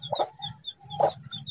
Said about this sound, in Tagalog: may manok naglumlum dari